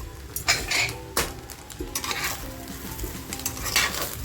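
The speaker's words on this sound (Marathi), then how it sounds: "कोथंबीर टाकते आणि एकदा परत मिक्स करते" A spoon stirs egg tikka pulao with freshly added chopped coriander in a hot pan, with scraping clinks of utensil on metal and a soft sizzle underneath, in close, irregular strokes.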